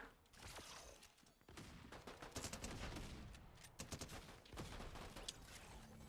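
Rapid short bursts of video game gunfire crackle in quick repeated volleys, loud and dense over several seconds, with no talk.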